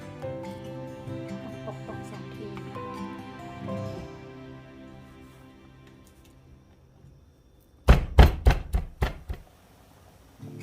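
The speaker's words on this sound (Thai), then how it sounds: "พริกขี้หนูสวนนะคะ เดี๋ยวเราก็จะโขลกคะใส่ลงไป เราจะโขลกให้ละเอียดนะคะ" Garlic, coriander root and small garden chilies are pounded in a mortar: after a stretch of other kitchen sound, a quick burst of about six sharp, heavy thuds lands close and loud, then stops.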